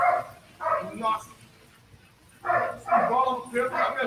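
A furry dog barks and yips in repeated short bursts, with a pause in the middle and then several more close, fairly loud barks.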